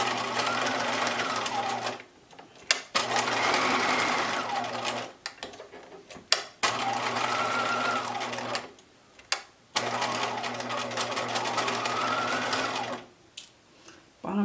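Sewing machine back stitching a fabric mask: close, loud bursts of rapid mechanical whirring, each running a few seconds, separated by short pauses and clicks as stitching stops and restarts.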